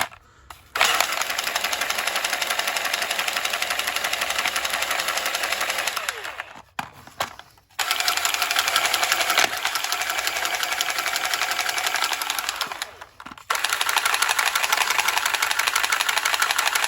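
A loud power tool spinning a steel brush, whirring steadily with a gritty, scraping edge, cutting out briefly twice before spinning back up.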